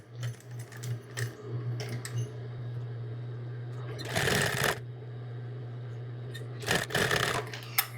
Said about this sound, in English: So we're going to sew this.